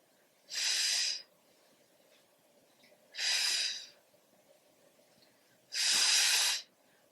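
Three slow, forceful breaths spaced evenly about two to three seconds apart, each a broad airy hiss, close and clear against near silence during a wall Pilates exercise.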